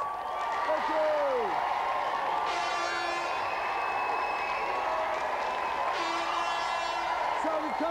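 Studio audience applause on a game show, a steady dense wash of clapping and cheering held at even loudness throughout, with electronic tones and whooshes sounding over it.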